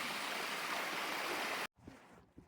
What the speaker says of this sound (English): And a lovely waterfall to finish the end of the walk.